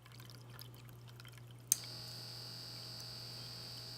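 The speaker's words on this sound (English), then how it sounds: "let it pump and then pour it back in the supply" A small WaterBot pump hums steadily at a low pitch, then a sharp click brings in a thin, high, continuous whine that carries on to the end, close and fairly quiet.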